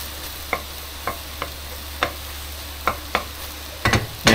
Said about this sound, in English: all I'm going to do is to break up the potatoes